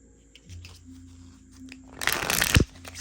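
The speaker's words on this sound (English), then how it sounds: "So let's see how these shuffle." Quick riffling of tarot cards with smooth-finish cardstock rises to a dense flurry near the end, finishing with a soft tap, close and fairly loud after quieter handling.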